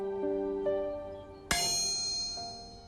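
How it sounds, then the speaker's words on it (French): A steam-era carriage wheel rings like a bell when struck during inspection, giving sustained metallic tones with one sharp strike partway through that sets off a bright, lingering ring. No voices are heard. "Comme une cloche, une roue fêlée ou fissurée n'émet pas le même son qu'une roue en parfait état."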